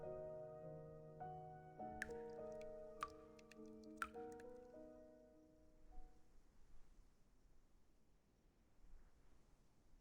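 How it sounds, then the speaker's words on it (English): Water dripping inside a motel in a video game: faint, sparse drips and soft ticks in quiet room tone after a few seconds of fading melodic chimes. "Sounds like dripping water."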